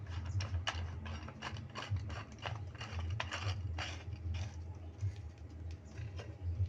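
A double-layer floor mould for ventilation blocks being tightened, heard as steady ratcheting clicks and gear-like mechanical clatter over a low hum, with no speech.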